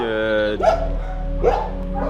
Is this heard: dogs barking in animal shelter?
yes